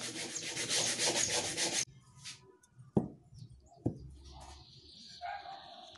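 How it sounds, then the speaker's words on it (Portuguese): Sandpaper rubbing over recycled wood for a bedside table finish, a loud steady scratching stroke that runs for about two seconds and then stops, leaving a quiet room with a couple of sharp knocks. "aí eu vim com a lixa e dei um acabamento com a lixa."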